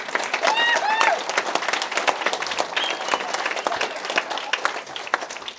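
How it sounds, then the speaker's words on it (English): Wedding guests applauding the newlyweds at a reception, a dense sustained clapping that fills the room, with voices and a few whoops over it before it slowly thins out. "Can we please get a round of applause for the Balfs?"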